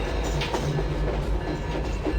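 SEPTA commuter train running in the Open Rails simulator game, a steady loud rumble of rolling cars with low hum and faint rhythmic clatter throughout, no talk.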